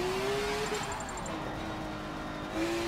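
BMW race car engine in the racing game Forza 7, a steady droning engine note with slight pitch shifts as the throttle is held and eased, continuous and fairly faint.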